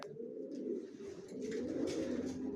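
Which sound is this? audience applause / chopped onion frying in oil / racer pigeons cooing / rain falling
racer pigeons cooing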